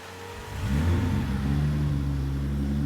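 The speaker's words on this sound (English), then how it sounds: "That cold start though." A car engine on a cold start with a weak battery: the motor catches and swells within half a second, then settles into a loud, steady, rumbling idle up close.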